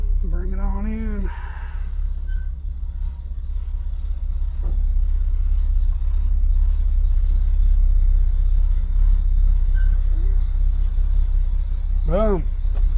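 A 1967 Corvair Monza is driven in, its engine a steady low rumble close by for most of the stretch, with brief voices near the start and end.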